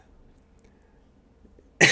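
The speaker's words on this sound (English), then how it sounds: "You guys ever get sick and you still have this little cough?" A single short, sharp cough bursts out at the very end after near silence.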